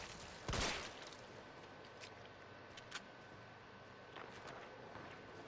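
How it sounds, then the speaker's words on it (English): In the video game Resident Evil 3 Remake, distant gunfire sounds as one sharp burst followed by a few fainter, scattered shots over a quiet ambient background. "I hear gunshots in the distance."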